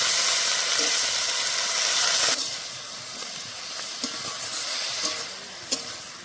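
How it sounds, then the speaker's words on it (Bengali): Greens (bethua shaak) fry in a pan while being stirred. A loud, close hissing sizzle opens the sound, then drops to a softer crackle marked by a few distinct scrapes and taps. "এবার ভালো করে নেড়ে নেব।"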